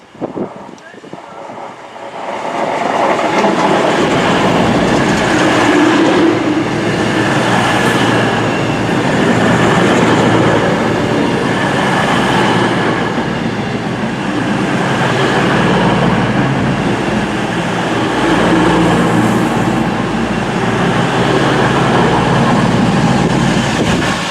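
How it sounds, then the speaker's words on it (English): A heavy freight train rumbles steadily through a station, loud and sustained for a long stretch, with rolling wagon noise and some wind buffeting. "A freight train is about to pass through."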